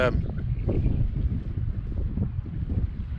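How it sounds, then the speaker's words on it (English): Wind buffets a microphone outdoors in cold weather, around 6 degrees, a steady low rumble and gusty roar running the whole time, close and fairly loud, with a voice in the mix. "A little bit of wind"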